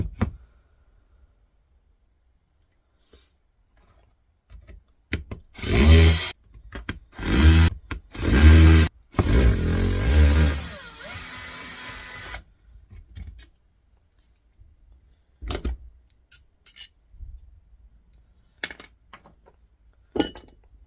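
Small nuts and bolts being removed from a Vortex Genie 2 laboratory sample mixer during scrapping: a run of loud metallic clinking and scraping bursts in the middle, then scattered quieter clicks and taps with pauses between them.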